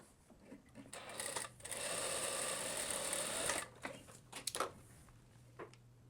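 A sewing machine stitches the centre front seam of a blouse's lining, running in a steady continuous burst for about two seconds, with short stop-start runs before and after, close and clear with no talking.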